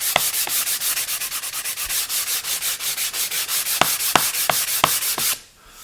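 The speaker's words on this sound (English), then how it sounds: "We'll sand it so it's nice and smooth." Paint-grade wood edge banding is sanded smooth by hand in quick, even back-and-forth strokes, close and rhythmic, about thirty in a row, stopping abruptly near the end.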